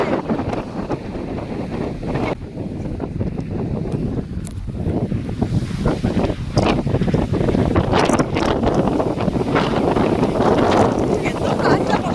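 Strong wind buffeting the microphone on a misty hilltop near a temple at Tenkasi, a continuous loud roaring rumble with gusty surges and occasional faint voices beneath.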